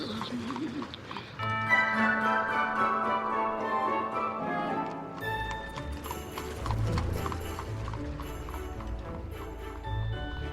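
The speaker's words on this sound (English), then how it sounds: "Once around the park, James, and don't spare the horses." Horse hooves clip-clop in a steady rhythm with a whinny, a sound effect played close and loud over continuous music.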